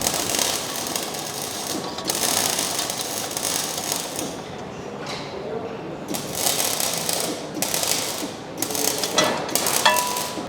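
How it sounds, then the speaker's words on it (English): A Snap-on ratchet works in a workshop, giving rapid mechanical clicking in repeated bursts over a busy, noisy background. "I'm using Sean's snap-on ratchet because he doesn't know how to use it"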